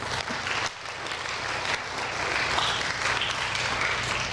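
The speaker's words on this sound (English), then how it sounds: "Can we have a round of applause for Mrs." A crowd at a school convocation symposium gives a teacher sustained applause, the clapping dipping briefly early on and then swelling fuller and steady to the end.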